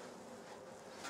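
A bee buzzes near a trap hive in a garden apiary, a faint, steady drone that swells slightly at the very end of the short moment.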